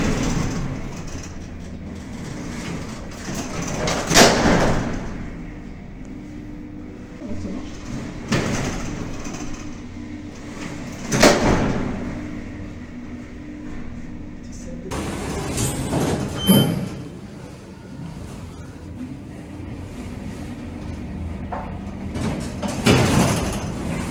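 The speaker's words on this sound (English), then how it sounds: "You can open up the inner doors and the lift will carry on going." The inner doors of a ThyssenKrupp lift slide open while the car keeps running, giving a steady rumbling mechanical hum with several loud rattling clunks and swells spaced a few seconds apart, moderately near.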